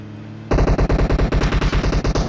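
Rapid automatic gunfire from a battle royale video game, a loud unbroken burst of evenly spaced shots lasting about two seconds with no talk over it.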